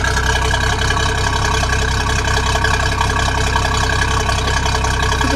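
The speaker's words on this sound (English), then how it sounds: "Let me get a little straight up exhaust note." A 1951 Hudson Hornet with a brand new engine idles steadily, its exhaust note a low, even rumble held at a constant level up close.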